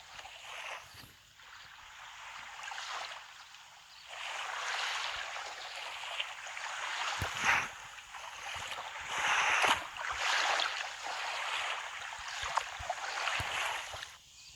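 A game character swims through water in Survival Island: Evolve Pro, with continuous sloshing and splashing that swells and fades in uneven surges for the whole stretch.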